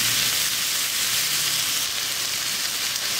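Mushrooms and onions frying in a pan for beef stroganoff, a steady, close, bright sizzle that holds evenly throughout with no voices.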